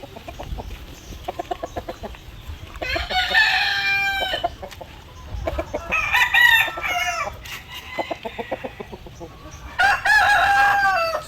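Dekalb Brown chickens cluck steadily in a rhythmic patter while a rooster crows loudly several times close by, the calls rising over the hens' continuous clucking.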